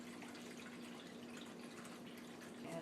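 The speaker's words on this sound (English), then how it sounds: "Now I'm just going to fill up my roasting pan. About two inches with water here." Tap water runs steadily into a roasting pan in a home kitchen, filling it about two inches deep for a turkey, a soft continuous pour heard up close and alone.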